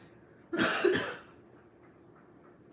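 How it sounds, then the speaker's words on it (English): A person coughs in a single harsh burst of two or three hacks after smoking weed, fairly close, then fades into quiet room noise. "You're not gonna be coughing off of some weak weed."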